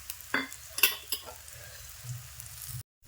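Gram-flour batter cooking in an oiled pan for a quick breakfast, giving a steady soft sizzle with a few light clinks of a spoon, and no voices.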